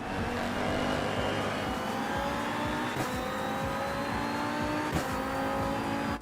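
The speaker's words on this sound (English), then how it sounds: "I like the sound on the gear shift. Like a hydraulic or airline sound." A KTM GT2 or GT4 racing car at Kyalami in the Assetto Corsa EVO sim roars loudly and continuously as it climbs through the revs, with sharp gear shift cracks breaking in twice, and no voices.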